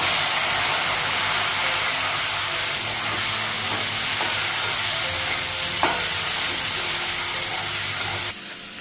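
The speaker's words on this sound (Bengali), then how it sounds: "ঢেঁড়সটা একটু ভেজে নেব" Okra frying in hot oil in a pan, a loud dense sizzle and hiss throughout with occasional clinks of stirring, cutting off sharply near the end, no voices.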